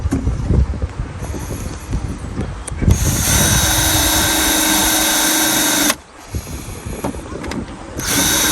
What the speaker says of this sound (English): New holes drilled through.